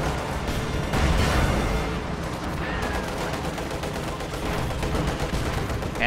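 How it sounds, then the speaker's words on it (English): A Stuka dive bomber's standard barrage in a World War II strategy game, mixed with gunfire: a dense, steady spread of explosions and shots lasting several seconds at moderate loudness, with no talking. "Stuka is firing its standard barrage now."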